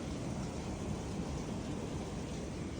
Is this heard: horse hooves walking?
no